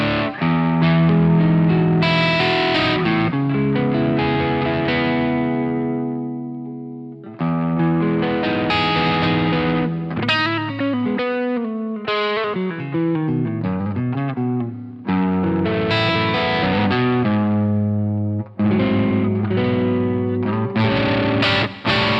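Electric guitar played through the Overloud TH-U amp plugin, blending two amps with a touch of reverb after the cabinet: loud, sustained distorted chords and ringing riffs in several phrases with short breaks, no talking.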